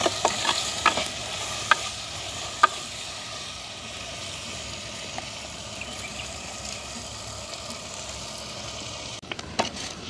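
Onion and green chilli sautéing in a pan, a soft steady sizzle with occasional scraping stirs and light clinks, fairly quiet and continuous throughout.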